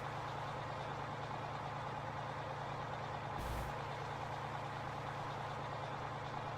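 A truck engine in Farming Simulator 15 idles with a steady low drone, and a short hiss of air brake cuts in once midway.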